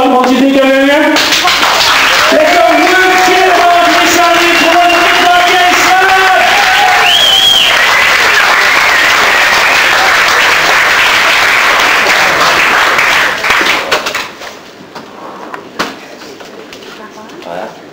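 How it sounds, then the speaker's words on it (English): Stand-up comedy audience applauding loudly, dense continuous clapping with cheers and a voice calling out over it, then dying down abruptly to scattered claps near the end. "Round of applause."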